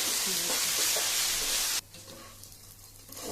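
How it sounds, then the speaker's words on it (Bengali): Hot water is poured into a pot of fried pulao rice. A loud, hissing rush and bubble runs for nearly two seconds, then cuts off sharply into a faint simmer. "পোলাও চাইটা একটু বুঝিয়ে পরে পানি দিলাম,"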